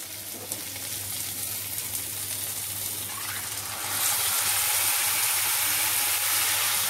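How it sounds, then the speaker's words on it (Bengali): Two cups of water poured into a pot of half a cup of lentils and half a cup of rice for bhuna khichuri, a steady close hiss of running water that swells louder halfway through. "এতে জল দেবো 2 কাপ"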